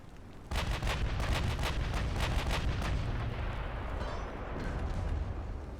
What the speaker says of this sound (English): Oh, I had an ammo detonation on him.